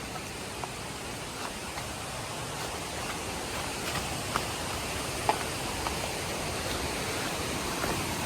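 Hidden waterfall at Anakulam in Munnar, a steady broadband rush of falling water that stays even and continuous throughout, moderately loud with no voices.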